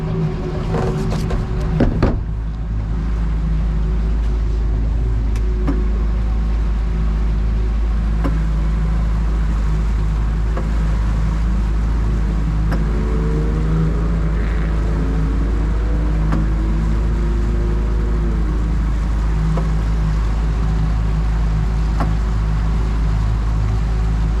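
Small kicker outboard motor idling steadily on a 220 Ocean Pro boat, a loud continuous low drone that holds throughout with slight pitch shifts midway, no voices.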